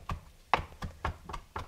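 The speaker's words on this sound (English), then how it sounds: "since they're gonna be finely chopped anyway, I'm just gonna start chopping them" A knife chops fresh basil leaves on a board with about six evenly spaced, crisp taps, quiet and close, with no talking.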